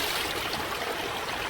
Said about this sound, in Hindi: बाढ़ का पानी कब भूरे के घोंसले तक आ गया